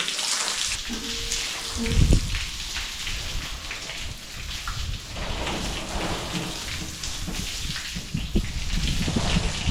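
Water sprays and splashes steadily against a terrace wall during washing, a loud close hiss with a brief heavier splash, and no voices.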